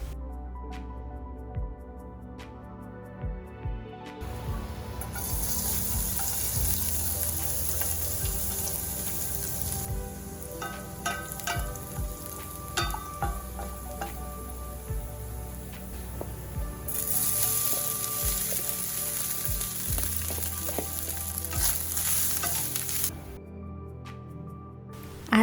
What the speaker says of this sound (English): Prep the rice by frying them in 2 teaspoon oil or butter and 1 teaspoon chopped